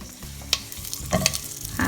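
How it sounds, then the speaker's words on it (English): Curry leaves fry in hot oil over medium heat, giving a close, steady sizzle with crackling pops and spatters and the scrape of stirring. "And fry curry leaves on medium heat for a few seconds."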